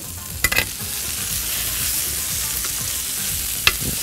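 Shrimp sizzling and frying in a hot pan as chives-seasoned Italian-style grilled shrimp cooks, a steady close crackle with a few sharp stirring clinks and scrapes, no talking.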